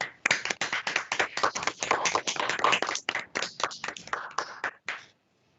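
A handful of people clap over unmuted microphones during a live-streamed court admission ceremony, sharp, uneven claps from several sources that overlap, then thin out and stop before the end.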